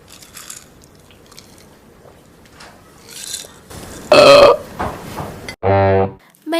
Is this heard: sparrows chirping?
no